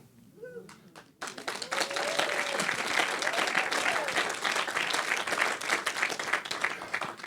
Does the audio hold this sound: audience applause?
yes